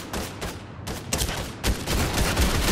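Rapid bursts of gunfire in Fortnite ring out in repeated volleys, loud and close, with several separate clusters of shots over a few seconds and no talk.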